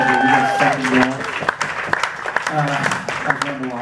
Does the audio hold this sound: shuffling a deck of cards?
no